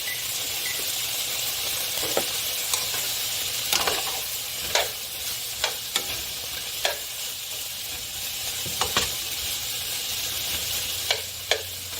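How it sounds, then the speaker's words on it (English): Beef and broccoli stir frying in a pan over medium heat, a continuous hissing sizzle with scattered sharp crackles and pops across the whole stretch, close and unaccompanied by speech. "And I'm going to let that stir fry on medium for about a minute."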